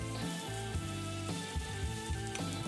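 Steak frying in oil and butter in a hot pan gives a steady close sizzle with crackling spatter, swelling in brief bursts, with no talking over it.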